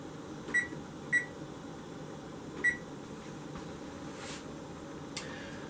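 Kitchen timer being set to 6 minutes while cooking manicotti, giving three short, clear electronic beeps spaced apart over a steady low background hum, followed by a couple of faint clicks.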